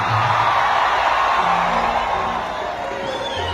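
A large audience at a Bhojpuri stage show claps and cheers continuously, a dense, loud wash of applause and shouting that stays steady throughout.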